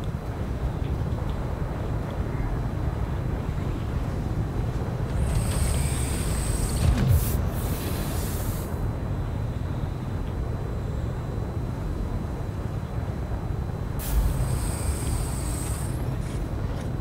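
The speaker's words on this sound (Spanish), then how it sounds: "Es como si estuvieran los motores prendidos, se escucha." Spaceship engines idle in the game Star Citizen, a steady, loud broadband rumble with a low roar that holds throughout, with brief airy hisses rising over it twice.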